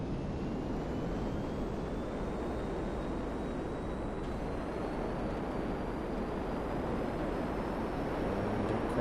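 A jet flown in the video game GTA 5 Online gives a steady, loud engine roar that holds without a break, with a faint rising whine above it and no voices.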